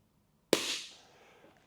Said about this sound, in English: you can dry fire and the weapon or pistol is back to safe